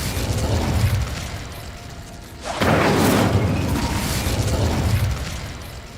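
In the Hogwarts Legacy video game, a cast spell bursts with a loud whooshing roar that surges and holds for a few seconds over dense, busy game sound.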